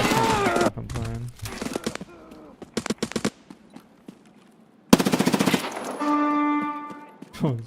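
Automatic gunfire in Escape from Tarkov, bursts of rapid shots in several strings with gaps between them, loud and close, with game sounds and a drawn-out tone near the end.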